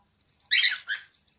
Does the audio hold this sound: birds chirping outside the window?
yes